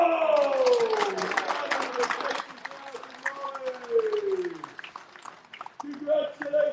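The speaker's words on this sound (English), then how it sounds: "Big round of applause because we" A crowd at a property auction in Mordialloc, Victoria, claps and cheers after the sale, a dense patter of applause running beneath a loud nearby voice that keeps talking throughout.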